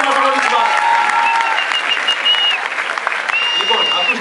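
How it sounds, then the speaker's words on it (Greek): A live audience gives sustained, dense applause for a young female singer, steady throughout with a voice talking over it. "δώστε χειροκρότημα στο κορίτσι."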